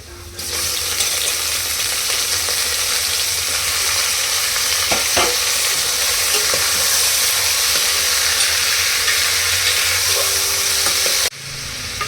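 Chicken sautéing with onions in a pan for a chicken gravy, a loud steady sizzle with occasional scrapes and clinks of a stirring spoon for about eleven seconds, no talking.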